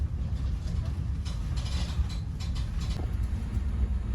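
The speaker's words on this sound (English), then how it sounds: "At Wycombe, we pass one of Chiltern Railways commuter trains." A Chiltern Railways commuter train passes near Wycombe, heard as a steady low rumble with some rising whoosh and faint rail clatter, from inside a moving carriage.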